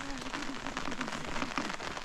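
Rain falls steadily during an outdoor wedding in the hills of a mountain village, a continuous soft patter with voices talking faintly underneath.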